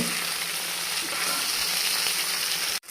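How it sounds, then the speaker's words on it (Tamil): Bitter gourd pieces fry in hot oil in a kadai, giving a steady close hiss and crackle that fills the clip before cutting off abruptly near the end. "பாவக்காவை பொரித்து எடுத்துக்கலாம்."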